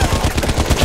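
Rapid, loud gunfire from a sniper rifle in an online shooter game, a close, punchy string of shots repeating at a quick, even rhythm for under a second with no talk.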